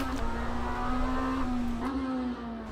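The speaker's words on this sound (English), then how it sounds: "This thing sounds fantastic. It's on the blip on the downshift there." Race car engine at Sebring in the Automobilista 2 racing game, a steady droning note broken by brief rev blips on downshifts, fairly loud and close.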